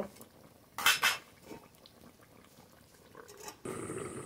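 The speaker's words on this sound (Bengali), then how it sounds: "এবার একটু ঢেকে দেব।" A metal lid set down on a cooking pot while fish curry with potato simmers, giving a short double clatter, then a quieter stretch and a steady hiss of cooking toward the end, with no talk.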